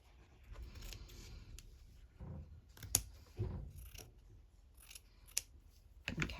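Scissors snip through paper while a paper-pieced tag is being trimmed, giving a few close, crisp cuts with short rustling pauses in a quiet room.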